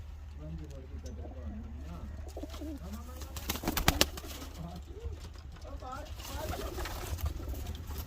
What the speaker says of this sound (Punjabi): ਇਹ ਜਨਾਬ ਸਾਡਾ ਚਿੱਟਾ ਕਬੂਤਰ ਹੈ